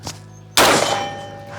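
A single sharp carbine gunshot cracks out loudly after a moment of quiet, followed by a long ringing decay that slowly fades.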